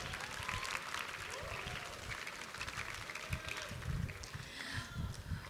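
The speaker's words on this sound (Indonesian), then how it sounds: "Silahkan kalau misalnya mau bertepuk tangan bebas di sini ya." Applause from the audience at a school graduation ceremony, faint and distant clapping running throughout with people talking over it.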